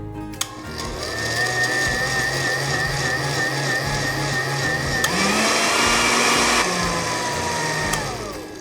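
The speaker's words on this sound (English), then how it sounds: "and give it a good blend." A kitchen blender whirs loudly as it purees broiled, charred tomatoes for queso blanco, a steady motor drone that shifts pitch partway through as the load changes, then winds down at the end.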